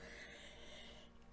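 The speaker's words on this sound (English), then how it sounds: "Sorry, I have to cough for a second." A single sharp cough bursts out at the very end after near silence, close and loud, following a faint tonal hum.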